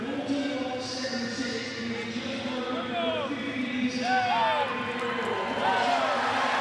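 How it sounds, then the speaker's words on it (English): At a 2012 London Paralympic Games swimming final, an indoor pool crowd roars steadily with rising cheers and whistles as a swimmer races, while a commentator talks over the noise. "So the crowd really getting behind him now"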